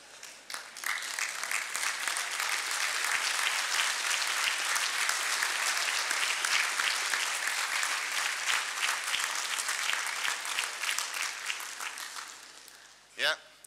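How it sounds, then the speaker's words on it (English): A large graduation ceremony audience gives sustained, dense applause for the graduates' families at a college conferring, steady clapping filling the hall for about twelve seconds before fading, with a brief burst near the end. "maybe give them a round of applause"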